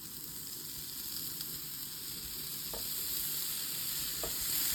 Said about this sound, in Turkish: Evet sucuklarımız kızarmaya başladı.